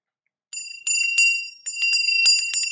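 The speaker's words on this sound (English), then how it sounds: "what do you hear? A bell, just like a wind chime." A small bell hanging on an outdoor mobile rings in bright, repeated jingles when shaken, coming in clear, close bursts after a brief silence.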